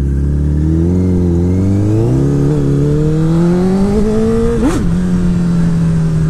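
A Super Sport motorcycle engine revs loud and close in rising power surges, pitch climbing steadily, then spiking sharply in one quick blip before settling, with no voices.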